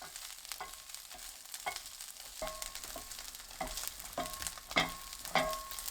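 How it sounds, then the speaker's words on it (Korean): Shishito peppers stir-fry with garlic in olive oil over medium heat. A steady sizzle runs throughout, broken by repeated scrapes and knocks of a utensil against the pan, close and moderately quiet with no talking. "꽈리고추 넣고 중불로 2분 볶아주세요."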